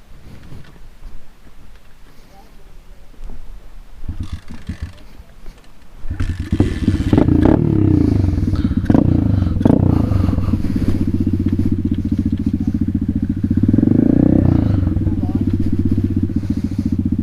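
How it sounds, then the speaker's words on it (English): A dirt bike engine is kickstarted after a few quieter clunks and knocks, then idles loudly and steadily with a throbbing single-cylinder putter, rising briefly in revs, with voices faintly underneath. "So one thing that's weird about this bike is you can only kickstart it in neutral."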